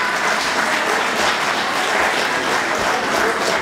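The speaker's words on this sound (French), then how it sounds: "On peut applaudir un peu plus fort Danielle" A live audience at a comedy sketch show applauds a nervous contestant named Danielle. The clapping is loud and dense and stays steady throughout, with no voices over it.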